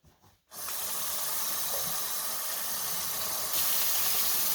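Tap water gushes steadily into a sink for handwashing before nonsterile ointment compounding, starting abruptly after a brief pause and running as a close, even hiss with no talk.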